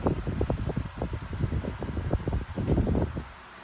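A 1994 Galaxy by Lasko 16-inch oscillating pedestal fan runs at medium speed, its steady airflow heard up close as soft, gusty buffeting that pulses irregularly against the microphone.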